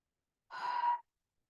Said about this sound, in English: take a big breath in, big breath out.